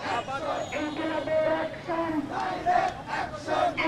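A crowd of protesters at a nighttime torch procession chants slogans in rhythmic unison, voices massed and fairly near, rising and falling with each shouted line.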